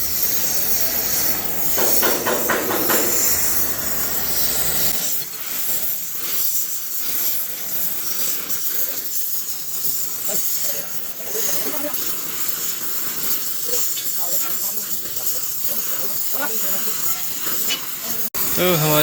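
A welding torch heating metal on a Kartar 4000 SV combine being straightened, a loud steady roaring hiss throughout with people talking over it.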